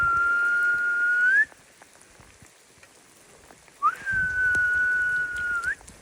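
Two long, steady tones whistled by a person calling a dog in the woods, near each other, each held over a second or more, separated by a quiet gap with faint outdoor patter.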